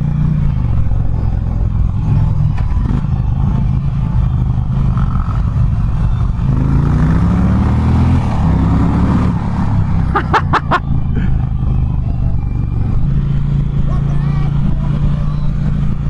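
An Indian Challenger motorcycle's engine roars steadily while being ridden, with wind buffeting and rising revs, and a rider talking over it throughout.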